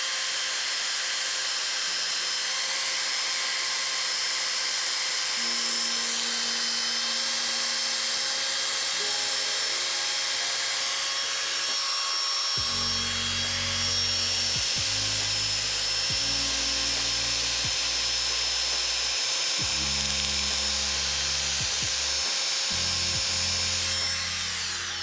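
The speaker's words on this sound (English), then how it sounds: "Take the sander, just remove a bit more paint at the back there." A sander strips paint from the back of a galvanized steering bracket in a car workshop, giving a continuous high whir with intermittent lower grinding bursts as it bites into the metal.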